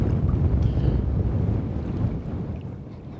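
Steady outdoor wind buffets the microphone with a dense, low rumble that fills the whole stretch and eases slightly toward the end.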